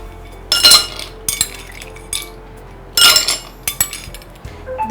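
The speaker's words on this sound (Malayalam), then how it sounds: "കുറച്ച് ഐസ് ക്യൂബ്സ്" Ice cubes drop into a glass while a cucumber and mango drink is made, giving bright, sharp clinks in several separate bursts spaced a second or so apart, close and fairly loud with no talk.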